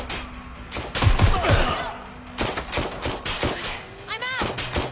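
Bursts of gunfire from the video game Watch Dogs Legion, with rapid shots clustered in the first seconds and more firing later, mixed with game effects and a voice speaking over parts of the action.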